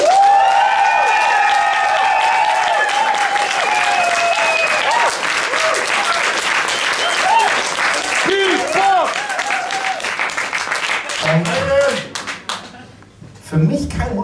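A talent show year-end final crowd at Pool Garden applauds for the act Metro Madrid, loud sustained clapping with scattered cheers and voices, thinning into sparse individual claps near the end.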